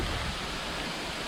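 Rushing water at Bad Aapkhol waterfall in Bargarh, Odisha, a steady broadband roar of falling water that holds constant and fairly faint throughout, with no voices.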